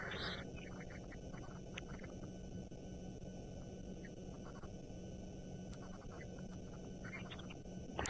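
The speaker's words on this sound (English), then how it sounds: "Hear all the birds calling for one last time." Birds call faintly in the African bush right outside a camp, sparse chirps clustering near the start and end over a steady low background hum, distant and quiet throughout.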